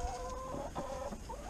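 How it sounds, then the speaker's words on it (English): Chickens cluck softly in a backyard coop on a winter homestead after a snowstorm, a steady run of low murmuring clucks and short calls from several hens close by. "Chickens."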